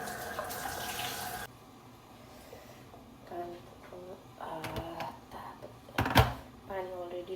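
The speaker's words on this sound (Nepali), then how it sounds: "ग्लास पखाल्छु म पहिला" Tap water runs briefly at the start while a glass is washed, then gives way to quieter clinks and handling sounds, with someone talking afterward.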